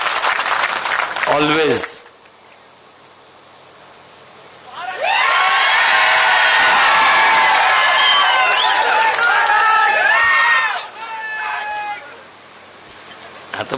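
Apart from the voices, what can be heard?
crowd applauding and cheering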